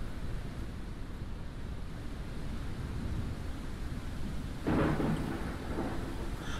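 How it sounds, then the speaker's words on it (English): Steady rain pours over a low rumble of thunder in the video game Forever Skies, with a brief louder crack of thunder breaking through near the end. "Caution, a storm is coming."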